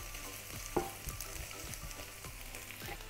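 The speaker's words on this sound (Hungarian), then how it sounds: "Lehet látni, hogy a krumpli már szépen sül meg." Potatoes sizzle steadily in a frying pan for a farmhouse breakfast, a continuous crackling hiss broken by occasional stirring scrapes and a brief louder clatter, with no voices.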